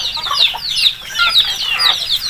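Chickens cluck repeatedly in short, overlapping calls, fairly close and steady throughout, with no talking.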